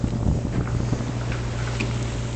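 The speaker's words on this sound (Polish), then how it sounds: "płyniemy sobie trochę na silniczku, bo słabo wieje" Sailboat S/Y Starlight motoring at sea on its small engine in light wind, a steady low engine drone mixed with wind rumble on the microphone.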